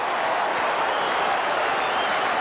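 A 1983 North Melbourne football crowd roars in a packed grandstand at a strong mark against Hawthorn, a loud, dense wall of cheering and clapping that holds steady for the whole stretch, with no commentary over it.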